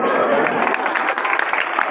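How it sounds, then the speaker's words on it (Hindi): Audience applause at a school program in Tharushah, a dense, loud patter of clapping hands filling the whole moment. "ताली बजायो मैट्रिक खे भली कार कयो।"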